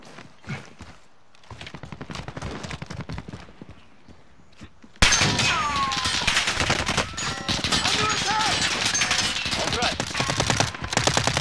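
Rapid automatic gunfire from a Call of Duty Warzone match, sparse shots at first, then a dense, loud burst of continuous firing with some voices faintly underneath.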